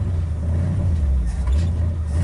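A 1959 Ford Galaxie 500 Fairlane with a faltering carburetor runs at start-up, its engine a steady, close, low rumble that swells slightly, with no voices over it.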